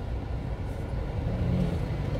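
Heard from inside a moving car in the old part of Jeddah, Saudi Arabia, a steady low engine and road rumble continues throughout, with no talking.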